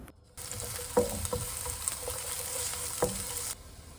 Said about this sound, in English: Stir fry another third of the sliced onion